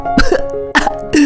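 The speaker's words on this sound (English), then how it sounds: "My mother-in-law continued to cough and screamed." A woman coughs after spitting out chili beans: several harsh, close coughs in quick, choking bursts with throat-clearing strain between them.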